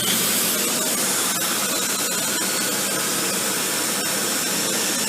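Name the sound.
Dyson Cinetic Big Ball Animal vacuum cleaner on deep pile carpet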